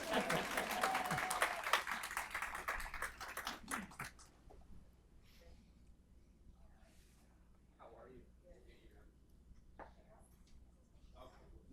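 Audience clapping at a VA Northeast Ohio Healthcare System nurse awards ceremony, a brief burst of fairly close applause that stops after a few seconds, followed by quiet room noise and people talking.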